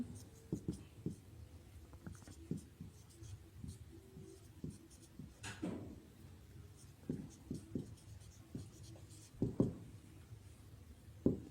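Pen or pencil writing by hand on paper, a steady run of soft scratching strokes with sharp taps and pauses, close and fairly quiet, with faint background noise.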